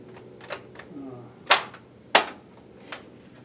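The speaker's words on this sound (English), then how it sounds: "let's try the Fiocchi. Same thing, shooting the steel from 100 yards." A Century Arms C308 Sporter rifle firing Fiocchi ammunition at steel targets 100 yards out on an outdoor range: two sharp loud cracks about half a second apart, bracketed by softer distant pops and clicks, no talking.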